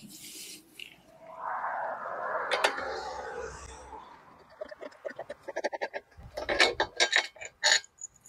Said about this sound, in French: on va retirer ces 2 vis là